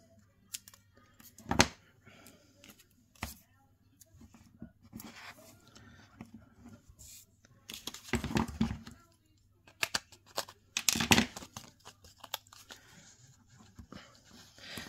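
Scissors snipping through Trusty Tool Box designer series paper during card making, a few short close cuts and rustles with quiet gaps between them, and a dog panting softly in the background.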